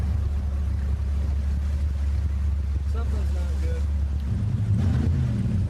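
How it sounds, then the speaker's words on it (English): A boat's engine hums steadily and loudly on open water after the hull strikes something, with a deeper churning surge near the end; someone talks briefly over it. "Thank God the engine doesn't sound too bad."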